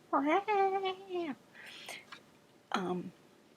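A cat lets out a long, drawn-out howling meow, then a softer breathy sound and a short second meow after a pause.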